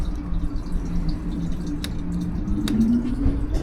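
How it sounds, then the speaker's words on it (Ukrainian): AdBlue trickles slowly from a fuel pump nozzle at a filling station, a soft, wet dribble under low background hum, with a couple of sharp clicks. "Бачите, я вже заправляю тут 10 хвилин, зайняв просто колонку, ціжу блін, по 2 грама цього адблю"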